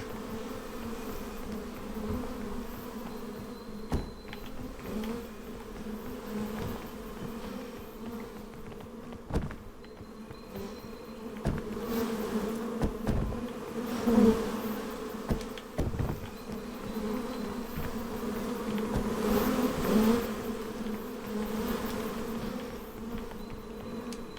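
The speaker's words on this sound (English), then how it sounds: "Juking these bees. They'll go away eventually, right?" Bees buzz around continuously in a game, a steady droning hum with swelling passes as insects circle near and away, moderately loud throughout.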